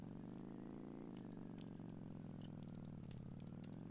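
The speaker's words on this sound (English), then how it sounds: "get on your moped, and then start delivering." A moped engine hums steadily in the Roblox Bloxburg video game, a faint, continuous mid-pitched drone with small shifts in tone and no voices.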